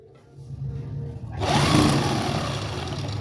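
A sewing machine stitches a salwar hem, starting after a quiet moment and settling into a steady, loud, close whirring hum that runs to the end.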